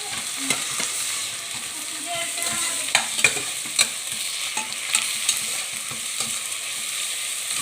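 Vegetables fry with ginger garlic paste in a pan, producing a close, even sizzle punctuated by scattered clinks and scrapes of stirring, with no one talking.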